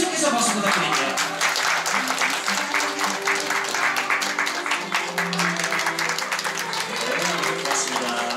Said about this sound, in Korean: 계속해서 박수 부탁드립니다.